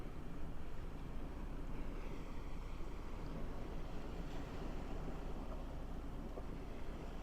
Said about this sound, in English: the wind's going to get a little worse, so I hope it's not affecting the microphone too bad